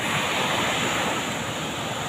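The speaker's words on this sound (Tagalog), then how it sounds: "lalaki pa naman ang mga alon" Large ocean waves crash and wash in a constant loud roar, mixed with gusty wind buffeting the microphone.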